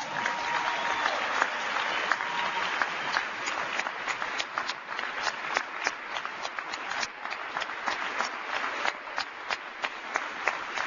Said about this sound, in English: would you just give a rousing round of appreciative applause to Ralph Reed